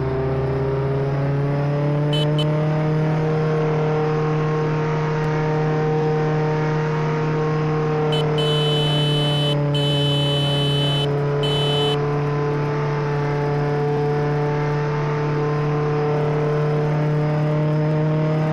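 Steady engine drone of a Jeep driven in a shooter video game, a constant mid-pitched hum that holds for the whole stretch, with brief faint high clicks now and then and no speech.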